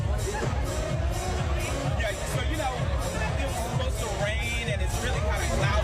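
A loud, dense crowd roars and chatters continuously at a World Cup watch party at Fido in Buckhead, a close, unbroken wall of excited voices.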